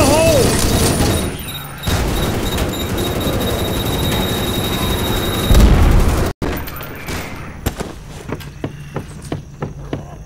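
Loud explosion blast from an airsoft-style game finale after a fire-in-the-hole warning, a dense booming roar lasting several seconds before cutting off, followed by scattered sharp pops and clicks with voices nearby.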